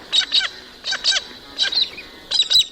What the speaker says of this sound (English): The galah is a spectacular-looking bird in the cockatoo family.